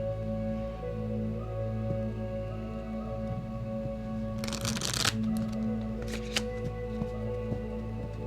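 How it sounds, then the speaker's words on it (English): A deck of cards is riffled in a quick, crisp burst, followed by a couple of shorter shuffles over a steady low hum. "let me shuffle these first"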